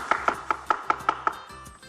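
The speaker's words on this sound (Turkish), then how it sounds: "Sarımsağımı da uzunlamasını üç parçaya böldükten sonra yine çok ince doğruyorum" A knife finely chopping garlic on a cutting board, sharp evenly spaced chops about every fifth of a second, close and clear, with a brief pause near the end.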